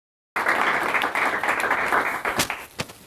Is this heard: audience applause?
yes